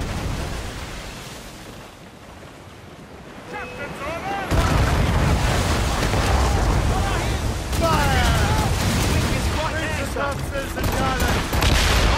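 Naval ship cannons fire in a broadside volley in Assassin's Creed Rogue Remastered, with heavy booming blasts over sea and wind ambience while voices shout orders.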